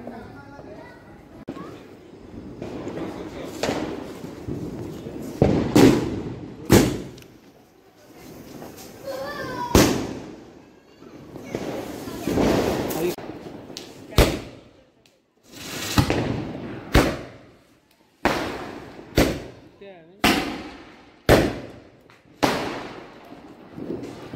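Diwali firecrackers going off during a family celebration: a run of sharp, loud bangs, spaced out early and coming faster toward the end, with people talking and children's voices in between.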